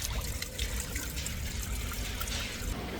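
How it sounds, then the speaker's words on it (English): Water trickling steadily from a public drinking fountain on a hot Belgrade street, a continuous close splashing with no talk over it. "There's normally like a water fountain somewhere."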